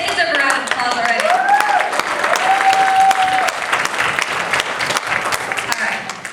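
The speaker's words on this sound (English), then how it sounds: "They deserve a round of applause already." Audience applause breaks out at an event featuring four people named Everybody, Somebody, Anybody and Nobody, a steady crackle of clapping that runs throughout with a few whistles and voices rising over it.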